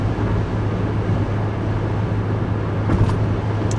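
Steady, loud engine drone and road rumble inside a Pontiac Grand Am GT under way, with a constant low hum throughout and no talking.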